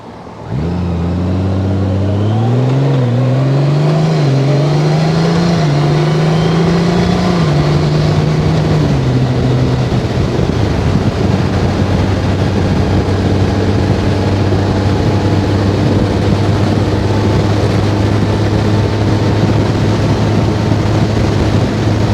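A 2021 Honda Gold Wing DCT touring motorcycle climbs a hill in 7th gear, its engine drone rising in pitch under throttle, then settling into a steady, loud low hum with continuous road and wind noise.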